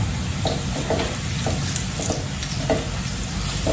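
Garlic fries in a pan for a tamarind dipping sauce, giving a steady close sizzle broken by a few soft stirring scrapes, with no talk.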